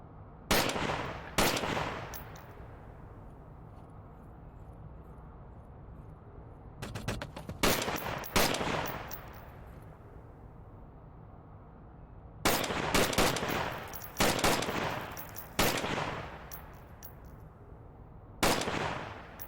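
Loud weapon fire at a firing range in the VR game Onward, several separate clusters of rapid close-up shots and bursts, each followed by a ringing decay and quiet gaps between them.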